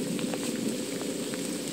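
Steady rain falling at a fishing spot in a coastal fishing village during a typhoon, a dense even hiss with scattered drop patters throughout, close and constant with no voices.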